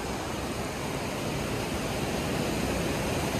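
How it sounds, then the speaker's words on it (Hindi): River flowing past the riverbank on the Kedarnath yatra route in Uttarakhand, a continuous broad rushing wash of water, steady and fairly loud with no talk. "अभी खड़े होकर नदी को निहार रहे हम सब लोग"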